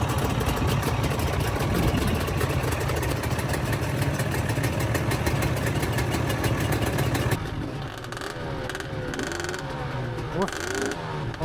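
A two-stroke GPX 300 TSE enduro motorcycle engine runs loud and steady close by on a trail ride in Lancashire, its raspy drone easing to a lower, rougher idle partway through.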